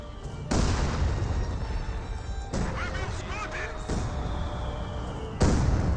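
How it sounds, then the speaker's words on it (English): 100mm mortar shells exploding in the video game Company of Heroes 2, with three heavy booming impacts spaced a couple of seconds apart and a rumbling battlefield din between them. "And these are from the 100mm mortars. You know they have the artillery sound effect."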